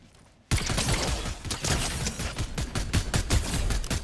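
Rapid gunfire from a Fortnite battle starts abruptly after a quiet moment and continues as a loud, dense fusillade of repeated shots and bursts, close and unbroken.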